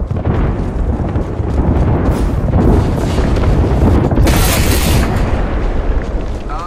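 Frag grenade exploding in an online shooter game, heavy continuous booming and blast noise throughout, with a sharper burst near the middle-end, loud and dense.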